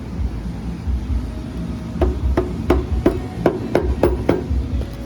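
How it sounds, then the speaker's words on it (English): A small rubber hammer taps on each side of the cover of an Ariens AX369 snowblower that binds up, about eight distinct knocks in an uneven rhythm over a low background rumble. "I use a little rubber hammer and kind of tap a little bit on each side to break it free gently"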